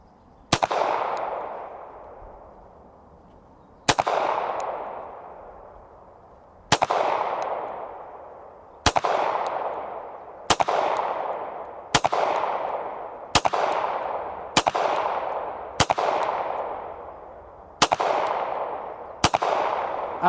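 A Smith & Wesson Bodyguard 2.0 pistol fires at a shooting range at 25 yards: about eleven sharp, loud reports, each with a ringing decay, spaced unevenly one to three seconds apart, with no talking.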